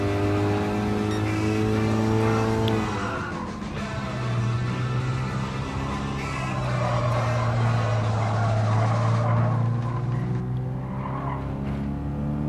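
A Toyota S-FR concept roadster racing in Gran Turismo Sport: a steady engine drone rises and falls through gear changes, with tire squeal and skidding through corners, loud and close with no voices.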